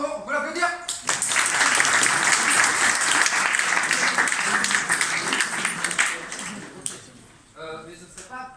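Audience applause at a stage show by apprentice actors: a dense, sustained burst of clapping that rises quickly, holds steady for several seconds, then fades out, with voices briefly heard before and after.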